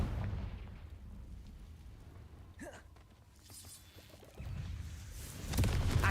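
In Hogwarts Legacy, the Confringo fire spell lands as fairly faint explosive bursts amid quieter combat effects, with a swell of blast noise late in the passage.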